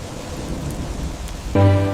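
Heavy rain pours steadily in a thunderstorm with strong wind, loud and continuous, and a sudden tonal burst joins near the end.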